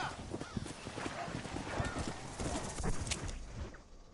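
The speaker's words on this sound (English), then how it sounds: "Hey, that's my horse, in fact." Horse hooves clip-clopping in Red Dead Redemption, a quick irregular run of close hoof strikes over outdoor ambience, with crow-like caws nearby.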